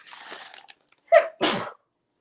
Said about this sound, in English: Watch sneeze.